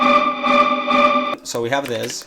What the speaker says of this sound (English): So then it goes into this synth.